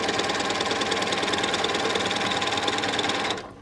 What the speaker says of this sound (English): And then I'm sewing all the way across that